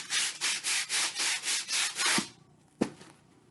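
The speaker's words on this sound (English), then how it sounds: "So this is just a pool noodle, and makes the same sound as the sandpaper blocks." A foam pool noodle is rubbed in about eight even back-and-forth strokes, giving a rhythmic scratchy swish like sandpaper blocks, followed by a short pause and one sharp tap.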